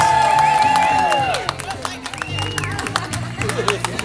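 Wedding guests clap and cheer for the bridal party, a loud crowd of applause with whoops over music-like tones, gradually settling into scattered clapping with voices talking.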